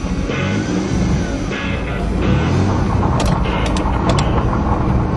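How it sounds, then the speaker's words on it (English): A 1992 Plymouth Voyager van with a seized wheel rolls along noisily, a dense close rumble of engine and grinding mechanical scraping with rattles throughout. "Sounds like I got a seized up wheel."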